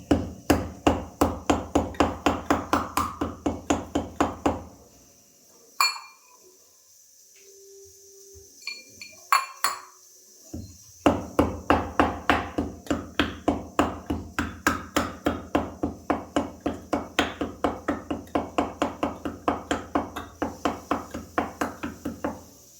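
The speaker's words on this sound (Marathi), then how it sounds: "आता इथे मी सुंठ कुटून घेते, जेणेकरून ते मिक्सरला अडकणार नाही" Dry ginger is pounded by hand in quick, steady, evenly spaced strikes that continue for a long stretch. A brief pause in the middle interrupts the rhythm before the pounding resumes at the same pace.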